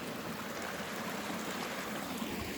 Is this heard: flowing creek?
yes